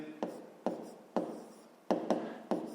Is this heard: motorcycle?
no